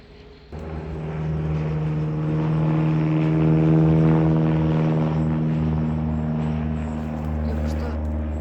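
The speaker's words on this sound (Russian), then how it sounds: "Самолет постоянно летает." A propeller aircraft from a nearby flying club drones over a winter forest, its low engine hum swelling in and holding steady, loud and continuous throughout.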